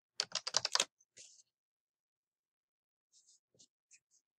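Keys on a computer keyboard are tapped close by in a quick burst of strokes, followed by a pause and then a few scattered, softer taps.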